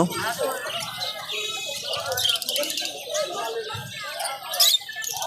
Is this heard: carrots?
no